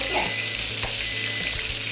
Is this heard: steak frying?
yes